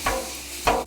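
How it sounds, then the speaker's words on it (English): Sausage cooks on a Blackstone griddle, with a soft hiss of frying and two quick scraping stirs of a spatula, close and quiet. "Cook some sausage."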